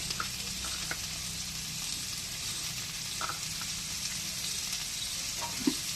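Curry leaves frying in hot oil for a Telangana corn snack, a steady soft sizzle and crackle under a few faint scraping stirs, close and unbroken, with no voices.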